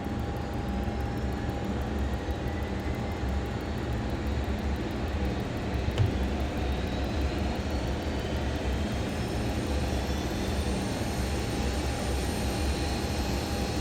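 A Learjet 35A's second engine spools up during its start sequence, a loud, steady jet roar with a thin sustained whine that holds level throughout, with no talk over it.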